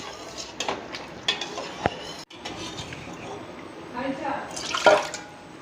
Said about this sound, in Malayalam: എന്നിട്ട് നമുക്കൊന്ന് ഇളക്കി കൊടുക്കാം.